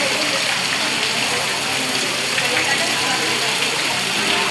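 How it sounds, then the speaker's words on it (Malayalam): A waterfall at Mango Meadows roars in a continuous, even rush of water that stays loud and steady with no breaks. "വെള്ളച്ചാട്ടം."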